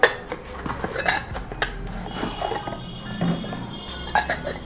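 A ceramic bowl with a lid clinks and clatters against dishes and cutlery, several light knocks scattered over a low background hum in a home kitchen.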